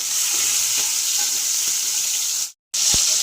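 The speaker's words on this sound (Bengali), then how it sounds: "চিংড়ি মাছটা প্রথমে আমি ভেজে তুলে নেব।" Shrimp frying in hot oil, a loud, steady hissing sizzle close by that cuts out briefly near the end, then resumes with a single knock of a utensil.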